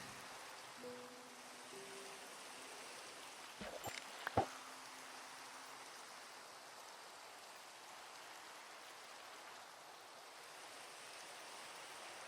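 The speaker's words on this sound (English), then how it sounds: "And we got rain." Steady Minecraft rain hiss continues throughout at a low, even level, broken by a couple of brief soft clicks near the middle.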